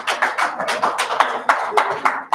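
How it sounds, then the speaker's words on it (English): A small group claps at a press conference in Abuja, with a run of separate, fairly close handclaps in an uneven rhythm and no talking over them. "DP a round of applause?"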